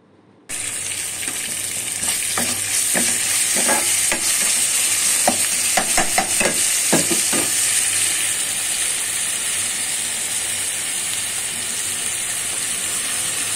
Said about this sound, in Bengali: রসুন বাটা, একটু আদা বাটা, নারিকেল বাটা, কাঁচামরিচ দিয়ে একটু নেড়ে নিচ্ছি।